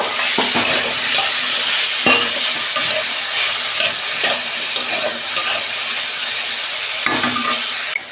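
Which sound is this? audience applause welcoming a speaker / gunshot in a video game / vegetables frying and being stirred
vegetables frying and being stirred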